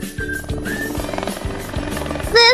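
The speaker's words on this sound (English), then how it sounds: "This is a helicopter." A helicopter's rotor thumps steadily with a loud chopping pulse about every half second, close and continuous, while a brief high whine rises near the end.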